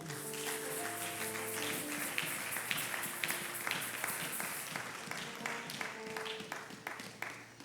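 A church congregation applauding during a service, steady clapping from many hands sustained throughout, loud and close, with some tonal sound underneath.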